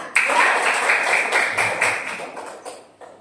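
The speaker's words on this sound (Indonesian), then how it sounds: "Tepuk tangan untuk kelompok visual" A classroom claps for the visual group, a lively burst of many hands that starts sharply, stays busy for a moment, then thins out and fades toward the end.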